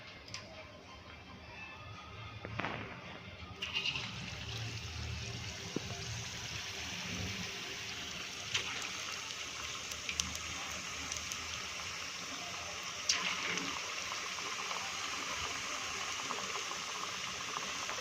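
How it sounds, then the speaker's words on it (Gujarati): Stuffed masala potatoes, aloo barula, frying in hot oil over low heat: a faint, steady bubbling sizzle that carries on evenly throughout, with soft clicks and clatters from the pan. "હવે આપણે આને ફ્રાય કરી દઈશું."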